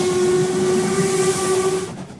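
A loud, sustained steam train whistle blows steadily for about two seconds over a hissing, rumbling background, then cuts off.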